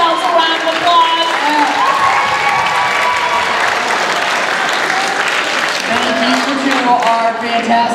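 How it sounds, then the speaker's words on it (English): An audience at a 2016 talent showcase bursts into loud, sustained applause and cheering, while a host's voice carries over the crowd noise. "And give yourselves a round of applause."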